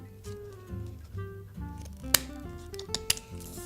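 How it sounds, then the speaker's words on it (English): Scissors snip through thin florist wire over soft background music, a couple of sharp, bright clicks standing out near the end. "So I can cut this wire."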